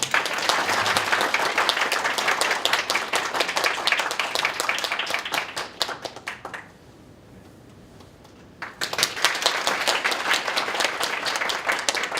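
An audience at a poet's lecture applauds in a loud, dense burst of clapping, breaks off into a few seconds of near-quiet, then claps strongly again.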